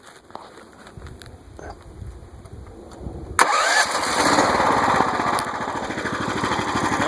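A Predator 420cc engine fitted in a Honda Odyssey buggy cranks on its electric starter, catches abruptly partway through, and settles into a loud, steady running drone close by.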